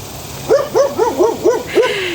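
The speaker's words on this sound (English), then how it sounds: "we also have a dog that barks" A dog barks in a quick series of six rhythmic, hooting yelps, fairly close and clear over a quiet background.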